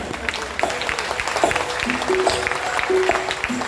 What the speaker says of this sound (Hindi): जो बाबा साहेब से प्यार करते हैं वो एक बार मेरे साथ मिलकर ताली बजाएंगे